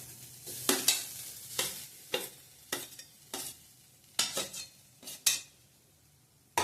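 Freshly grated coconut roasting in a pan over low heat for a Malvani prawn curry, stirred with a utensil in a steady run of distinct scraping strokes over a faint sizzle, close up with no talking.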